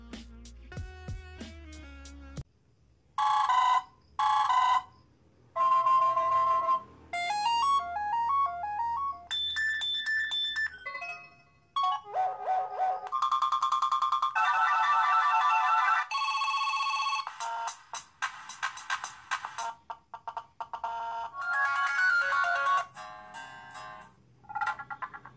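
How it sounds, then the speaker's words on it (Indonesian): An Xcom Xdroid2 Android phone plays a series of ringtones through its built-in speaker: bright electronic melodies and chimes, each sample cut off and followed by the next, loud and close. "Lanjut kita cek nada dering sekalian kita tes suara speaker HP-nya."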